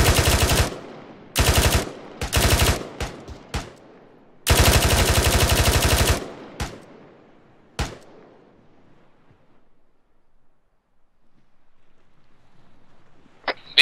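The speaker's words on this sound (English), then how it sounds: "Shots coming from the bunker, I think there's still one in there." Bursts of automatic gunfire come from a bunker in a military video game: several loud, close rapid-fire volleys, then scattered single shots fading into near silence.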